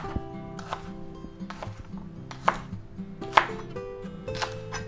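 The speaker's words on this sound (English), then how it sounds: "we're going to cut this in like 2-inch sections" Knife chopping bok choy stems into sections on a cutting board, a series of sharp irregular chops, a few louder strikes standing out over faint background hum.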